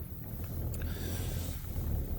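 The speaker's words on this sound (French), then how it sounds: "comme vous voyez il y a du vent" Wind blowing over a solo bivouac camp, a steady low rushing buffet with gusty rumble, continuous and fairly faint, with no voices.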